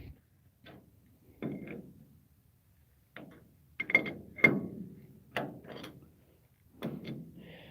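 A bolt being tightened with a ratchet, short bursts of rapid clicking pawl ticks separated by pauses, close and fairly quiet.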